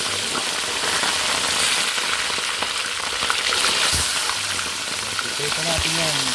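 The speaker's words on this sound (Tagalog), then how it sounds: "Yung mantika, ipiprito na natin yung ating pampano." Pompano fish frying in oil, a steady broadband sizzle that stays close and even across the whole stretch, with light bubbling crackle and no pauses.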